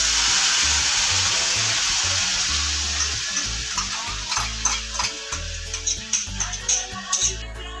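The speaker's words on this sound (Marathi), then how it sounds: "फक्त बेसिक तडका आहे जिंजर गार्लिकचा" A ginger-garlic tadka with tomato paste and coriander stems sizzles steadily in the pan, with a loud hissing fry that eases as a spoon stirs and clinks rhythmically toward the end.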